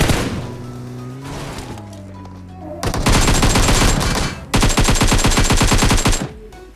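Rapid automatic gunfire in PUBG Mobile, two loud sustained bursts of dense rhythmic shots following a quieter stretch of game sounds and tones.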